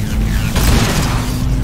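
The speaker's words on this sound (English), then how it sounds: "These flashbangs last for fucking 2 years!" Flashbang grenade blast in Totally Accurate Battlegrounds, a loud close booming burst that swells midway over a dense rumbling roar and lingers without fading.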